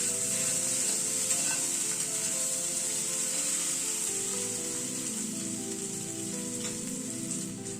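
Onion, potato and spice paste sizzle steadily while frying in a pan for a Bengali onion potato bhuna, a constant close crackle with faint stirring underneath and no talking.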